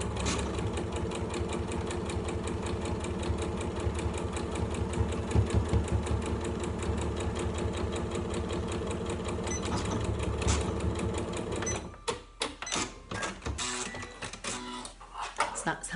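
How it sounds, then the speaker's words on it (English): A sewing machine runs steadily close by, stitching through the fabric of a tote bag and then back tacking, in a fast even whirr that stops and starts near the end with a voice speaking over it. "I'm going to do a few stitches and back tack and then come along and back tack at this end just to hold it"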